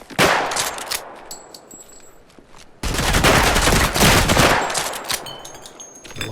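Gunfire in the shooter game Project Silverfish, dense bursts of rapid shots in two volleys split by a brief quieter gap, loud and close.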